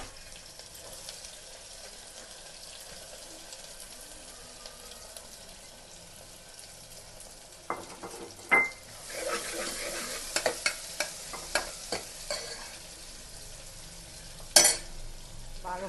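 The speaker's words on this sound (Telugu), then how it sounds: "Whole garam masala, onion fry చేసుకోవాలి." Onion and whole garam masala fry in oil for a homemade keema curry. A soft, steady sizzle runs throughout, and from midway on it is broken by louder scraping stirs and clatter.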